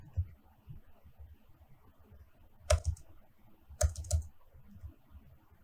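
Typing on a computer keyboard, soft scattered keystrokes with two sharper clusters of clicks, close and quiet.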